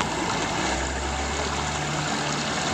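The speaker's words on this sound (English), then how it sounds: "I like this noise of the water coming down." Water runs down in a steady, close rushing stream, a constant broadband wash with no breaks and no talking over it.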